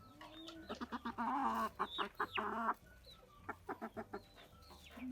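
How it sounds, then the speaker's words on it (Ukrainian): Leghorn chickens cluck in short repeated bursts nearby, with a longer drawn-out rooster-like call in the middle, fairly quiet overall with no talking. "Це є наші легорни від ось цього півня, який зараз тут бігає."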